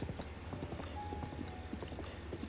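Horse hooves clip-clop in the video game Zelda Breath of the Wild, a steady rapid galloping rhythm under a dense background wash, moderately faint.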